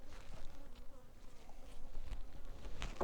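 Wasps buzz inside a beehive during an inspection, a busy and faint insect drone with scattered soft taps and no voices.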